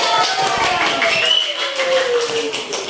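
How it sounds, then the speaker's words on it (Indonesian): Classroom of Islamic religious studies pupils in Indonesia clapping together for their group's perfect score, a dense patter of hand claps mixed with children's voices and chatter throughout. "Tepuk tangan"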